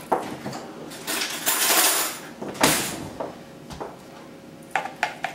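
A fork cutting hot Belgian endives on a cutting board, with clinking metal taps and scraping against the board, a longer scraping rush in the middle and a few sharp knocks toward the end.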